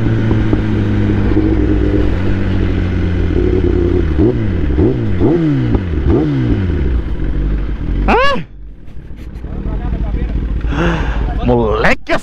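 A Kawasaki ZX10R sport bike roars while ridden, with a loud, steady engine drone and several rising revs through gear changes, plus one sharp high rev, heard up close over wind noise.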